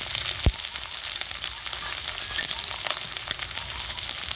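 Chopped tomato crackles and sizzles in hot oil with ginger paste, a steady close frying hiss with a few sharp pops, no talk.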